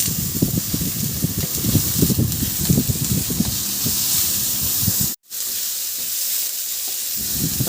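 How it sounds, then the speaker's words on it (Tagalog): Ginger and onion sauteing in a hot pan with garlic, a steady loud sizzle and hiss that continues throughout, broken by a very brief cut before the frying resumes. "Igisa ko na rin yung sibuyas."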